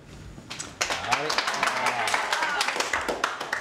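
A family claps hands together at a burger competition. The sharp, uneven claps start after a brief quiet moment, close by and mixed with voices talking and cheering over them.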